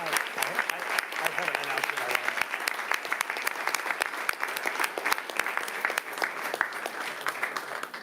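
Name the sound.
applause for student athletes at school board meeting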